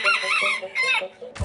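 Hollandaise ornamental chickens, black-plumaged with white crests, clucking and calling in a busy, close run of squawks, ending with a low thump.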